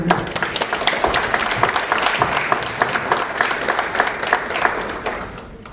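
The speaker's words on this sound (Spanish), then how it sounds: "¿por qué no le damos un aplauso a" Congregation applauding a guest preacher at an evening church service, a dense, loud burst of many hands clapping steadily throughout before tapering off at the close.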